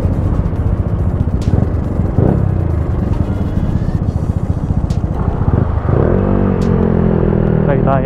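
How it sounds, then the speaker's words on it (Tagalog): A Yamaha Mio motorcycle with a 160cc touring-set big valve head (24/28) makes a noise in Pasig after a 500 km ride. Its engine chugs with a loud, steady, close low rumble and some clatter, and voices talk over it. "So dito na tayo sa Pasig at may narinig ako sa motor."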